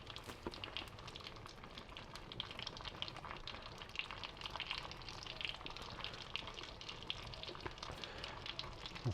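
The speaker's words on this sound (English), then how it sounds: "I've got some fresh pierogis here, not frozen. And I'm just going to want to get a little bit of a sear on them and reheat them." Fresh pierogis sear in butter in a pan, making a soft, steady sizzle with faint crackles, quiet and close, with no talking.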